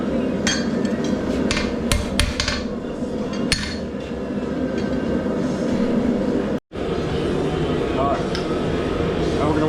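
A 4-pound rounding hammer forges metal for a fireplace brush head, a series of sharp, ringing strikes close by. One hard blow stands out, and a brief silence comes before the work resumes.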